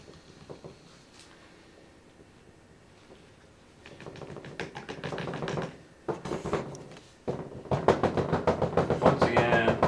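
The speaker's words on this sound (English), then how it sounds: "knocking to get bubbles out" A plaster plate mold is knocked repeatedly to release air bubbles: quiet at first, then a run of sharp, close taps and raps in irregular bursts, with no talking.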